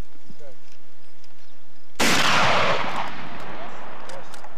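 A single rifle gunshot at a shooting competition during a Santa Fe Trail rendezvous cracks out loud and close, then booms and rolls away after a quiet moment of low outdoor background.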